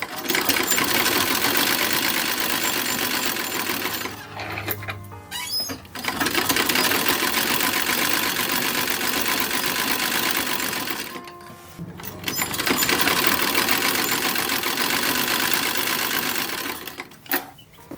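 A sewing machine stitches self-fabric binding onto the raw edges of 1910s-style toddler underwear. It runs in long, loud, steady bursts, with two brief pauses between runs.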